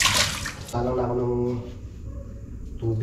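Water poured into a cooking pan in a home kitchen, a short broadband splash at the start followed by someone speaking over faint running-water noise and a brief return of splashing near the end.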